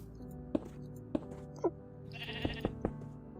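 Repeated sheep bleats from a video game, several short calls spaced across a few seconds against a steady hum, moderately loud, with nobody talking.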